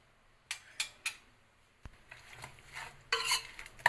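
A utensil clinks and scrapes in a pot while ground garam masala, cinnamon, cloves, cardamom and coriander powder are mixed for Hyderabadi chicken dum biryani, a few sharp taps, then softer stirring with a faint sizzle, close and moderately quiet.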